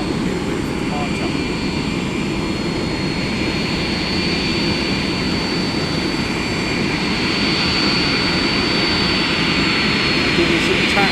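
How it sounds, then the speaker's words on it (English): Boeing 747 jet pushing back and taxiing at East Midlands Airport, a continuous loud engine roar with a steady high whine, unbroken and close throughout. "With the choice of the 747 pushing back to start, or the aircraft taxiing out with departure"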